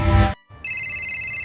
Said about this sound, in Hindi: इस समय किसने फोन किया है?